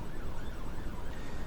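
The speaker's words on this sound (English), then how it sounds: "there's that bloody siren again" An emergency siren wails steadily and loudly throughout, its rising and falling tone continuous over rumbling background noise, with no speech.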